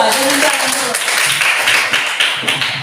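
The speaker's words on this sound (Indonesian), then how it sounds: "Tepuk tangan buat kelompok 2" A classroom of students claps together for a group, a dense burst of hand claps that goes on steadily for a few seconds.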